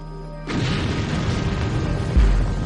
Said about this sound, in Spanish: la muchedumbre asistía a la explosión de un barco cuyo misterioso final resonaría hasta nuestros días